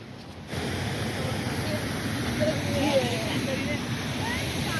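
The Gidli Ghoghra waterfall gives off a continuous broad roar of rushing water, steady and fairly close, with faint voices briefly surfacing in the middle.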